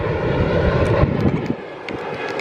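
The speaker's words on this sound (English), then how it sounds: "Oh, I hear a plane." A broad, steady engine roar of a plane passing overhead, filling the clip at a constant, fairly loud level with no voices.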